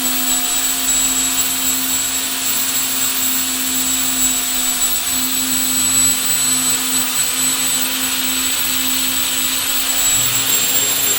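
A grinding wheel works the inside diameter of hardened bushings, giving a continuous high-pitched whine over a steady rushing hiss, loud and unbroken with no talking.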